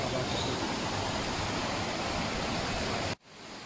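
The first waterfall on a hiking trail on Uludağ, a steady, close, full-bodied roar of falling water that runs evenly for about three seconds and then cuts off abruptly.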